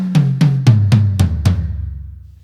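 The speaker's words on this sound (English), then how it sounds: "imagine you're doing a tom run going from like the high to low. Normally, that would sound like this." Drum kit tom run played from high to low: six quick, evenly spaced strikes, each pitched lower than the last and ringing into a sustained decay, loud and close with no talking.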